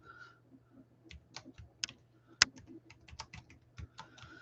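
Irregular keystrokes on a computer keyboard, close and fairly quiet, with a few sharper clicks over a low steady hum and no talking.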